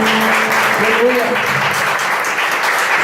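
Church congregation applauding in a worship service, a dense continuous wash of clapping with voices mixed in beneath it.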